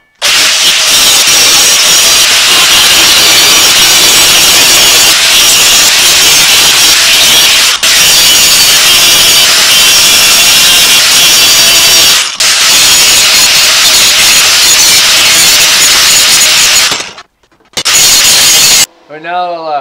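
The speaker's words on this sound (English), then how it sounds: "we'll use the angle grinder to cut that out" Angle grinder cutting through metal for a propane rack on a converted school bus, a loud continuous abrasive whine with brief pauses and near-silence toward the end.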